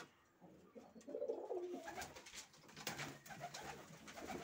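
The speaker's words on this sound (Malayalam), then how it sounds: "നമ്മൾക്ക് ഒരു പ്രാവിനെ കണ്ടു." A pigeon coos softly in a loft, a few low rolling calls close by and faint, with no talk.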